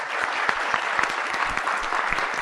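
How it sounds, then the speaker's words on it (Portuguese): A room of people applauds in a dense, lively burst of clapping, close and fairly loud, holding steady from start to finish. "uma salva de palmas para a galera da Liga"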